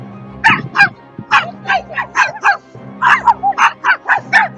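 A small ankle-biting dog in Mexico barks and yips rapidly and loudly, high-pitched and close, in quick repeated bursts with short breaks.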